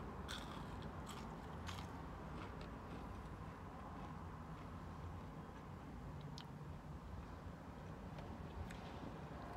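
Dense, steady crunching and crackling from close chewing of a Carl's Jr. Guacamole Bacon Angus Burger, continuous throughout with sharp brittle snaps scattered on top.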